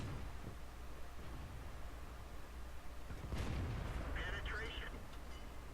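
A tank gun on a Jagdpanther II fires a shell in a video game, a single heavy boom about midway through, ringing out over steady background rumble and noise.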